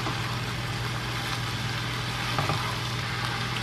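Cabbage and shrimp sautéing in a pan give a steady, close sizzle and hiss, with faint shifting sounds as the food is stirred slowly.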